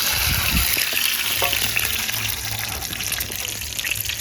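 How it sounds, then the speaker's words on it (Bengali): An egg drops into hot oil for a restaurant-style egg curry, bursting into a loud, bubbling sizzle at first that settles into a steady crackling fry; no voices. "বন্ধুরা তেলটা গরম হয়ে গেছে ডিমটা দিয়ে দিচ্ছি"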